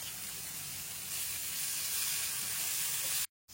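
Chopped onion and tomato fry in butter and oil with cumin seeds in a pan, giving off a loud, even sizzle that brightens a little partway through and then cuts out suddenly at the end.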